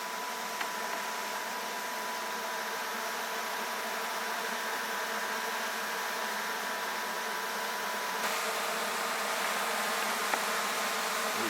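Black bees swarm at night around a hive at a château, giving a dense, steady buzz that stays even and close for the whole stretch, with no voices.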